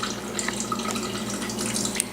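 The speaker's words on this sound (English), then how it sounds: "I'm going to take that peach nectar and I'm going to pour that right into my jug, pitcher, or whatever" A can of peach nectar pours into a pitcher in a kitchen, a steady close liquid stream splashing softly throughout.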